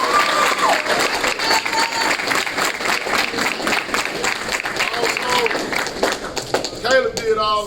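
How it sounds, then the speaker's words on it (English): Applause and clapping from a crowd at a high school football signing ceremony, steady and fairly loud throughout, with scattered cheering and speech breaking in near the end. "So I want everybody to give Caleb a round of applause."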